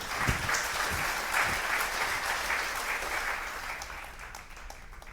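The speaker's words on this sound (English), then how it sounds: "a tidal wave of cheering washed over Kuturo, and so deafening was the roar" Crowd in Absolutely Charming Puppeteer video game bursting into loud, sustained applause and cheering, a dense roar that holds steady before slowly fading.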